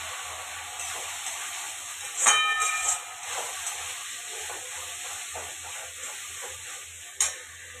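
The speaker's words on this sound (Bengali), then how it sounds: "প্রথমে এবার এই পেস্টটা দিয়ে দেবো। এটা টমেটো, কাঁচা লঙ্কা, রসুন বাটা পেস্ট। নাড়তে থাকবো যতক্ষণ না তেল ছাড়ছে।" A paste of tomato, green chili and garlic stirred in hot oil in a pan, a steady hiss and sizzle with a couple of sharp metallic scrapes and clinks of the spoon, no talking.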